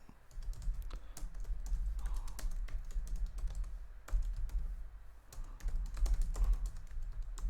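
Steady, fast clicking of keys on a computer keyboard while text is entered into a web page, continuous and close with a low hum underneath.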